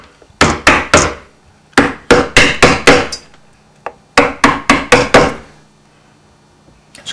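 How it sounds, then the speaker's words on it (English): Mallet blows on a narrow straight chisel carving elm wood, sharp woody knocks in three quick bursts of four to five strikes each, close and loud with short pauses between groups. "I'll use a slightly narrower straight chisel"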